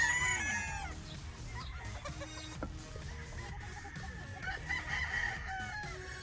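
Gamecock roosters of a straight breed stag line crowing at a crowded fowl show booth, several overlapping crows near and farther off, with clucking and a steady hum of background crowd noise.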